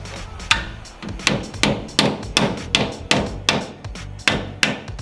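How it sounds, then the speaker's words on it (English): A hammer drives a new seal into a Toyota pickup axle during a disc brake conversion, about a dozen sharp, evenly spaced metallic strikes at close range with no talk. "Get a hammer and just hammer it in."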